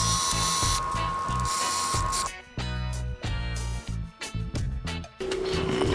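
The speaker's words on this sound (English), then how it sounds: "make sure it's standing up straight and just screw it in." A cordless screwdriver or drill drives screws into a mount for a Tend Secure Lynx 1080p security camera, with several close, loud whirring bursts and ratcheting stops, no talk.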